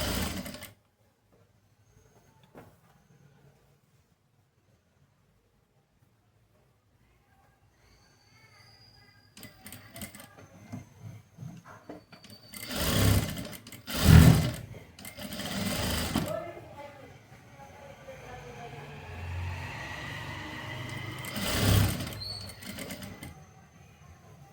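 Sewing machine stitching a three-tuck blouse without lining, running in a few short bursts in the second half amid handling noises, with someone talking quietly between runs.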